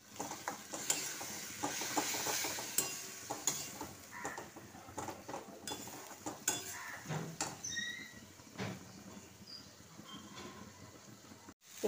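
Tomatoes stir-fried with ginger, garlic and a soaked chili-turmeric paste in a pan, heard as steady scraping and clinking of a spatula with faint sizzling underneath, busy throughout.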